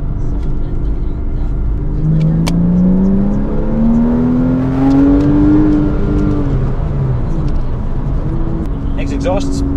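A Porsche Cayman 987.1 pulls hard with its exhaust note climbing steadily as the engine revs up and eases off, heard from inside the car, loud and continuous, with people talking over it.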